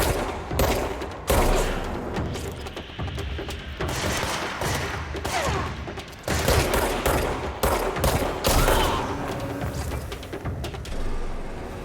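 Sustained bursts of automatic weapon fire from the video game Control, loud and dense with rapid repeated shots and booming impacts, brief gaps between volleys, no speech.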